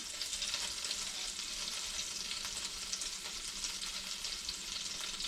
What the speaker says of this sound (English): So I got my butter and olive oil all heated up. I'm going to go ahead and put the fish in.